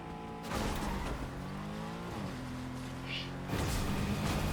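A car engine drones and revs in Fortnite, pitch sweeping up and down with gear shifts, loud and continuous, with a brief tire screech.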